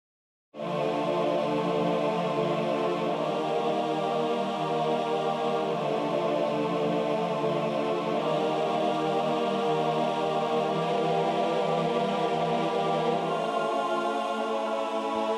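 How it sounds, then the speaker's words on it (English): Synthesized choir voices from a keyboard, part of a Majora's Mask metal medley, hold sustained chords that start after a short silence and run steadily and loudly, with no talking. "But here's the choir sound you can hear."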